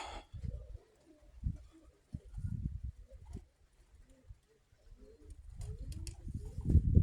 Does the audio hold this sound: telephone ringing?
no